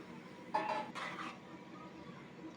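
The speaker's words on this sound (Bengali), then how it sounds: "সব মশলার সাথে আবার নেড়েচেড়ে দেব মাংসগুলো, যেন মশলাগুলো মাংসের সাথে মিশে যায়।" Beef being stirred with spices in a pot, two short scraping, clattering bursts of a utensil against the metal, close and fairly quiet, then a soft steady background.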